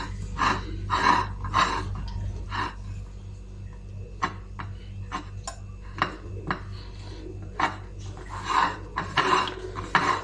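Pancake batter mixed by hand in a bowl, with repeated scraping, tapping clinks of a utensil against the bowl in uneven bursts, close and fairly quiet.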